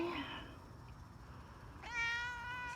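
A faint voice at first, then a clear single meow from a nearby cat near the end, over quiet room noise.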